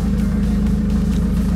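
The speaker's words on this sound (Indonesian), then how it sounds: "Nah, ini mobil udah kita nyalain juga." Modified Mitsubishi Evolution 8 MR engine running at a steady idle nearby, a loud, continuous low rumble with a constant throb and no talk over it.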